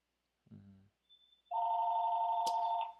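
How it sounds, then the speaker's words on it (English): A telephone rings once with a long steady electronic trill, clear and fairly loud in a quiet room, just after a brief murmur of a voice. "Of course the phone would ring."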